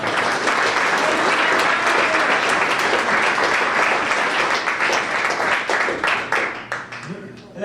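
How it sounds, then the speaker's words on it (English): A crowd at a National Honor Society banquet breaks into sustained, dense applause that continues loudly for several seconds, then gradually thins out toward the end. "Let's give Ron a round of applause."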